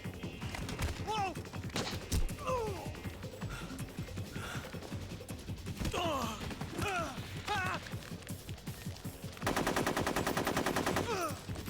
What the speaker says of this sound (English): Great use of an LMG, my guy.